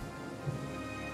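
Steady rain in a Total War style strategy game set in the Three Kingdoms era, a continuous broadband wash of falling water with low rumbling underneath, evenly loud throughout and with no voices.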